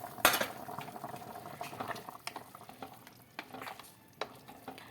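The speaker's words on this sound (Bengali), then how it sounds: "ঝোল ফুটে উঠেছে" Chicken stew broth bubbling in a pot on a gas stove, with a steady simmering hiss and occasional clinks and stirring sounds, close by, with no talk.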